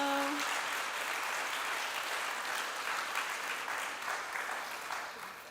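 A church congregation at a Sunday service claps steadily for Sarah, a full, sustained round of applause that tapers off slightly at the end.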